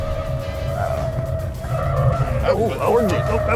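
Kumho Solus 4S SUV tires chattering on a handling test, a wavering squeal and rumble over a constant engine and road drone, rising toward the end while someone talks over it.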